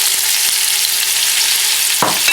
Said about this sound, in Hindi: यहाँ पर तेल हमने गर्म कर लिए, थोड़ा सा बिल्कुल थोड़ा से ऑयल का इस्तेमाल हो रहा है यहाँ पर दोबारा। इसमें ऐड करेंगे जो हमारे फाइनली चॉप्ड अनियन है